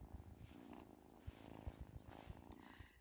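Soft, rumbling purr of a cat being petted in the farming game Wylde Flowers, a close, continuous low vibration with slight pulsing through the whole stretch.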